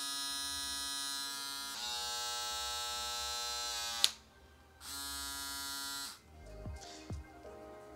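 A MANSCAPED Handyman electric hair clipper buzzes steadily with a bright, whirring hum, stops briefly, runs again, then cuts off, followed by faint handling noises.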